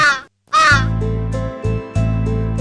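A raven caws loudly and close in a kids' story sound effect, with two harsh calls followed by several shorter repeated caws over a sustained droning backing.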